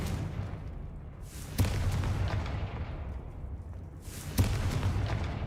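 Confringo fire spell blasts in Hogwarts Legacy, two sharp booming explosions a few seconds apart, each with a bright crack and rumbling tail over a steady low game-ambience drone.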